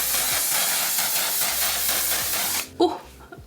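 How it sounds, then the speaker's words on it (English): Broad, steady hiss of One Size setting spray being misted over the face, loud and continuous for about two and a half seconds before cutting off, followed by quieter handling noise. "completely coat the skin in the One Size setting spray"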